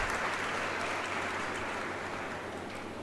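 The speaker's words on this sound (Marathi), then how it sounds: "आपण आपल्या स्वतःसाठीच टाळ्या वाजवून मनापासून तुमचं स्वतःचं स्वागत करावं" Applause from the audience at the inauguration ceremony of an agricultural college's Krishi Umang 2026 event, a steady wash of many hands clapping at a moderate distance that tapers slightly toward the end.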